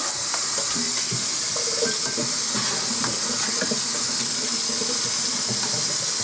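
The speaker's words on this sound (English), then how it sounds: "Washing your hands is a big deal in the kitchen." Hands washed under a running kitchen tap: a steady, loud rush of water that fills the whole stretch with a few faint splashes and knocks, and no voices.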